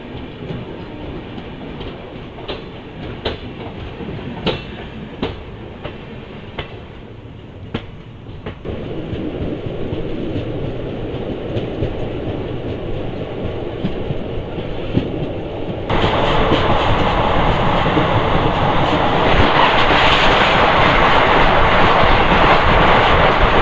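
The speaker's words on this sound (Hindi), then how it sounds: "जबलपुर जंक्शन पर अराइवल लेते हुए ताप्ती गंगा एक्सप्रेस" Tapti Ganga Express arriving at Jabalpur Junction on Indian Railways, heard as a continuous, steadily intensifying rumble with rhythmic clicks early on, then a loud, broad roar and wheel noise as it draws close, with no talking.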